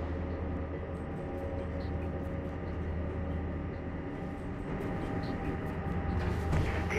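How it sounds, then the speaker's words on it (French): A helicopter approaches in the Mirror's Edge game, a steady low, droning rumble that holds at an even loudness and swells slightly toward the end, with no voices. "Il y a un hélicoptère qui approche, il va falloir faire vite."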